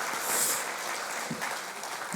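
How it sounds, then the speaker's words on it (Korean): Church congregation applauding students, a dense even wash of clapping that holds steady for its whole length, with no talk above it. "우리 학생들 격려의 박수 한번 쳐줄까요?"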